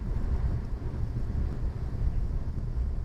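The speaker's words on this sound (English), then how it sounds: "At 130, there's quite a bit of wind noise" Constant low roar of wind rushing past a Renault Captur E-Tech Hybrid at 130 km/h on the highway, heavy and droning without pause.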